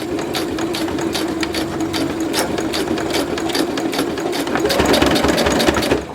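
A sewing machine runs continuously and close by, stitching over the handle of a foldable fabric grocery bag with an even, rapid mechanical chatter.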